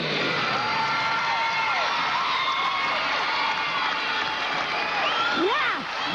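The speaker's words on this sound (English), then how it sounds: "Crowd up." A large crowd at a 2001 NCAA gymnastics meet, Georgia at LSU, cheers loudly and steadily, with whoops and high shouts rising above the sustained roar of an indoor arena.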